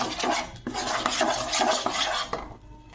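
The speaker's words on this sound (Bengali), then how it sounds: "দিয়ে ভালোভাবে মিশিয়ে দেব।" A spoon mixes cornstarch slurry into a hajmi mixture in a pan, making quick, continuous scraping and swishing with light metallic clinks, close and steady before stopping abruptly.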